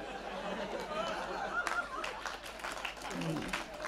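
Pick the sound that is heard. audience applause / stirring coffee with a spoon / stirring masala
audience applause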